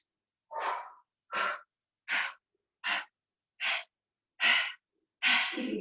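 Seven sharp, evenly spaced breaths during a Pilates sculpt exercise, about one per second, close and clear against silence, with no talking.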